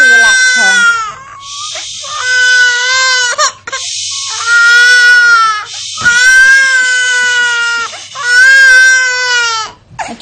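A baby girl cries loudly and close by in long, wavering wails. Short gasping breaks separate each burst of crying.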